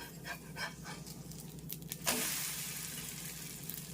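An omelette frying in a pan on a medium flame, a steady close sizzle that swells abruptly partway through and keeps crackling to the end.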